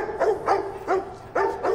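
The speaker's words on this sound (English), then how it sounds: "What are they barking at?" Several dogs bark in a film scene, giving four or five sharp, evenly spaced barks at close range over a low background hum, with no talking.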